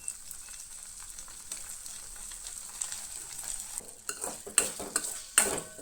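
Sabudana khichdi is stir-fried in a pan, giving a soft continuous sizzle that builds into louder scraping stir strokes and a few metal clinks toward the end, heard close with no talking.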